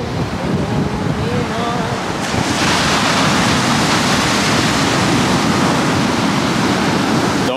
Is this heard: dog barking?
no